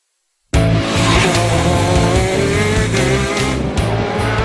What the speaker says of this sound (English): This Italian-made racing kart, with its one-cylinder 125cc engine, reaches speeds of 180 kilometers per hour.